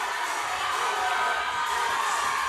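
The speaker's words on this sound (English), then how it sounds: "Oh, the Ackworth crowd, you can hear them. Yeah, the Ackworth crowd is very loud. They're cheering for Amanda Paz." A loud gym crowd at the Burn Boot Camp Athlete Games cheers and whoops steadily for an athlete, a dense continuous roar of voices with occasional shouts rising above it throughout.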